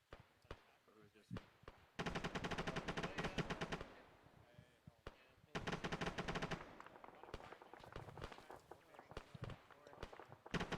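Machine gun fire in a military simulation video game, long automatic bursts alternating with scattered single shots and pauses, with radio-style voices talking over parts of it.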